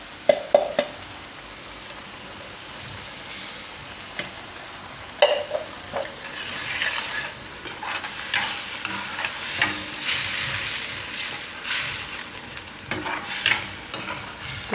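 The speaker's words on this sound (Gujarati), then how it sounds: "ગ્રેવીને પાકવા દેવું આપણે." Gujarati gravy for stuffed bottle gourd cooks in a pan, giving a steady close sizzle with intermittent stirring scrapes and clinks, building louder toward the end with no talking.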